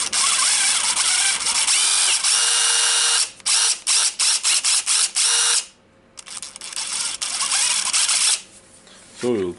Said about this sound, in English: today I have the Dewalt Impact driver DCF887 and it have intermittent switch problem.